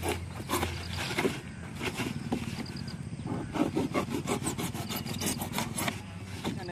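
Foam box being cut by hand to shape a float for a river fishing net, a steady rasping, sawing scrape repeating in quick strokes close up, with no talking.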